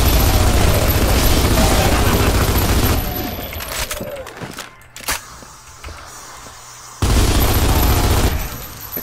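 Sustained automatic weapon fire in a video game, loud rapid bursts that cut out midway to quieter footsteps and movement, then resume at full intensity.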